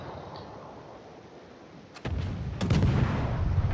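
Ship guns fire in the naval video game World of Warships, two heavy booming salvos a fraction of a second apart, loud and close over quiet ambient background.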